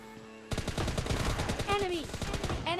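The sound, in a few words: gunfire in the video game BGMI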